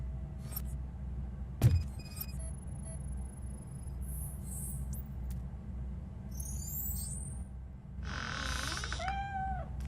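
A cat in the RoboCop: Rogue City video game gives a few faint, high meows over a low ambient rumble, with a sharp thud early on.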